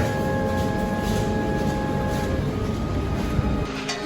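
Steady rumbling background of a railway setting, a continuous low drone with a faint high tone, no clear voices.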